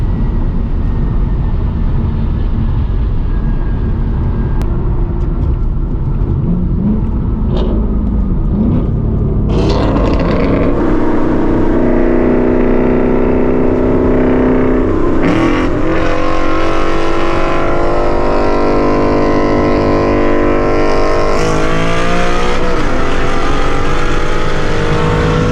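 A Ford S650 Mustang GT running on E40 fuel during a race, its engine droning loudly and climbing through gear shifts with rising whines, a constant close rumble.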